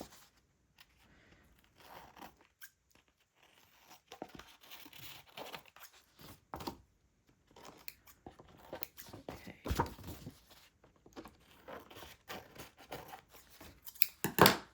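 Scrapbook paper has its excess trimmed off the sides, giving quiet, intermittent snips and rustling paper with a few louder crinkles toward the end.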